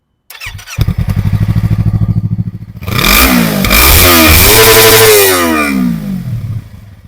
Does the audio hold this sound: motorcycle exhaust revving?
yes